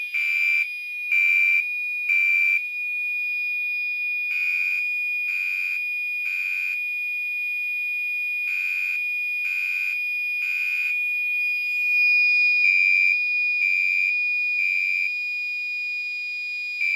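A fire alarm set off by a heat detector tested with a hairdryer rings a loud, steady electronic tone in repeated groups of three pulses with short gaps, continuing alone for the whole stretch.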